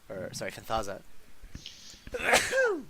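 A single abrupt sneeze bursts out right after someone speaks a short phrase, close to the microphone.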